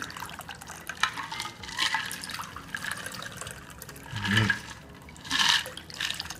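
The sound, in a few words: pouring cocktail into chilled glasses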